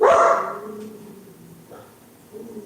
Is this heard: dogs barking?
yes